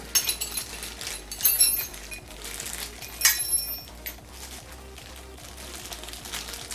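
Small metal keys from a mini bench drill kit, the ALLSOME BG-5156E, clink and jingle lightly as they are handled, with a steady faint hum underneath and scattered bright metallic ticks.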